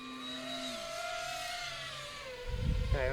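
A small RC float plane's engine whines as it pitches and drops during a touch-and-go on open water, then a louder low rush and splash swells near the end, with no talk.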